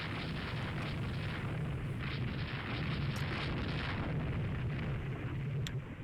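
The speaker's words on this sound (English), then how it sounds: "Prussian superstructure hit by heavy guns" Heavy naval guns pounding a Prussian warship's superstructure in the naval strategy game Rule the Waves 2, a dense continuous rumble of booms and blasts rolling on with no pauses, loud and close.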